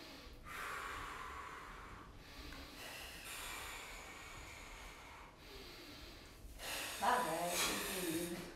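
Long, forceful breaths blow out in three or four separate gusts during a core-strengthening workout, fairly close, with a voice speaking in between.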